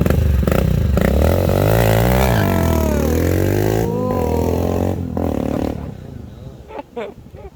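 A Kawasaki-style motorcycle revving loudly at close range, its engine note rising and falling through several surges before dropping off and trailing into quieter clatter.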